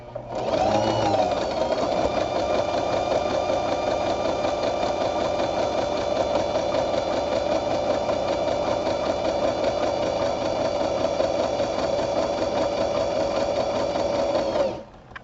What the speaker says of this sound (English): to have the sewing machine go